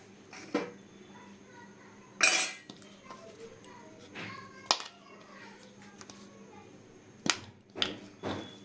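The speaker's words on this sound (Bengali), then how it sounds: "আমি তেল দিয়ে দিলাম, হালকা করে লবণ হলুদ মেখে নেব।" Chunks of taro being tossed by hand with oil, salt and turmeric in a metal bowl, giving scattered clinks and scrapes of utensils against the dish amid quiet background noise.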